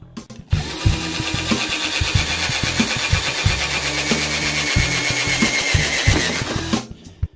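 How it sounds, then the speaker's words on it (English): A power drill bores into hardboard backing on a canvas for a silicone art piece, a loud, steady whirring grind that runs continuously for several seconds before stopping. "And this can's got a bit of a hardboard on the back of it, so that's why I'm using a drill."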